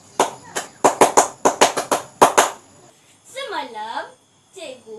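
Children in a classroom clapping hands in a quick series of about ten sharp claps, close and loud, followed by a teacher's voice speaking.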